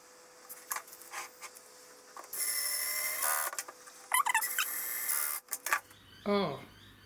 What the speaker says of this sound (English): Okay, so now I can put these screws in.